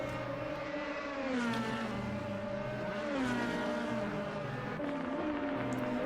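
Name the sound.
race cars driving on the back straight at Zolder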